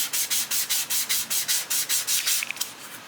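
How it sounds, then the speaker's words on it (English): Sandpaper rubs back and forth across the frets of a seven-string guitar in about fourteen quick, even, close strokes, a rhythmic scratchy rasp that tapers off at the end. "I'm going to try the sandpaper method instead of the fret rubbers."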